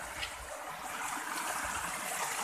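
Flood water pouring along in Kanjirapally, Kerala, heard as a dense, steady hiss and gush close by, unbroken for the whole stretch with no talking over it.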